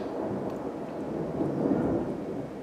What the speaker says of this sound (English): We have a thunderstorm here, so there's noise from there.